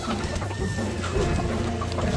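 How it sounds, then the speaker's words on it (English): Roosters clucking and calling in a busy, noisy coop, several birds close by with continuous background clatter and no clear pauses. "Roosters only."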